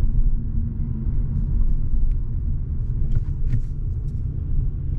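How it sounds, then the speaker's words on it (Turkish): From inside a Fiat Egea 1.4 Easy Plus driving in second gear, a steady low engine drone and road rumble carries on, with a few faint clicks above it. "İkinci vites ile devam ediyoruz."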